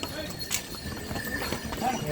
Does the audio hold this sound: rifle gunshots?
no